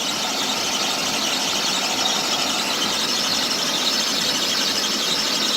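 A Chevrolet Impala engine runs with a persistent high-pitched squeal, loud and steady over the engine noise for several seconds without any talking.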